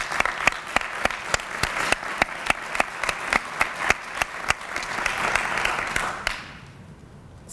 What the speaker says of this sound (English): Can we give a clap of hands?